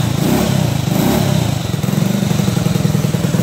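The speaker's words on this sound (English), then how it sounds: "Just took me a second to get it started. I just needed to give it some gas when I first pulled it, but fires right up." A 1984 Honda ATC 110 three-wheeler engine idles steadily just after starting, with fresh head and rings, a close, loud, even single-cylinder putter that runs throughout without talk.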